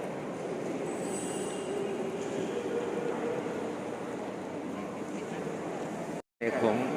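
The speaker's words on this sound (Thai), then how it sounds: "นี่คือบรรยากาศของภายใน สถานีรถไฟวังเวียง" Steady indoor ambience of Vang Vieng railway station in Laos, with a low rumble of trains and a faint high squeal, before a brief cut near the end.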